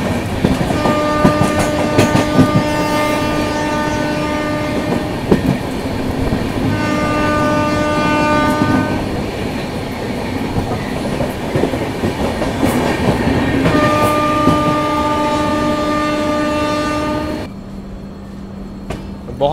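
The Avadh Assam Express running, with continuous rail clatter and rumble under repeated long, loud horn blasts, three sustained blows separated by short gaps, then a quieter stretch at the end.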